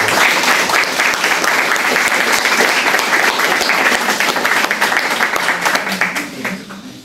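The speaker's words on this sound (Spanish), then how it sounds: "yo les quiero agradecer y les quiero pedir un fuerte aplauso a ustedes" Loud, sustained applause from a large crowd, dense clapping that continues steadily before starting to taper near the end.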